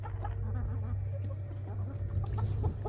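A pair of roosters in a chicken coop cluck softly and intermittently at close range, their calls partly buried under a constant low droning hum.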